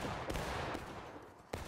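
Musket volleys in the Civil War game War of Rights, three sharp cracking shots spaced irregularly over a dense rattle of distant gunfire, loud and close.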